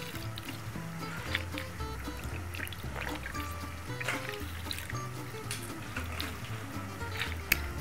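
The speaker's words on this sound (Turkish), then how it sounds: "Kalanı da çuvaldan böyle elimle sıkarak suyun çıkmasını sağlıyorum." A sack of pekmez pulp squeezed by hand to press out the juice, with soft wet squelching and trickling close by under a low background hum.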